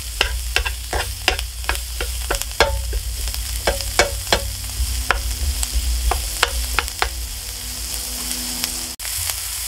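Cajun scallops sizzle in a pan as a utensil scrapes and taps them around in a quick, uneven rhythm of crisp knocks over a constant frying hiss.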